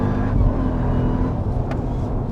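A supercharged Jeep Trackhawk with a 707 bhp engine roars loud and close, holding a steady, throaty drone as it accelerates under load, with no talk over it.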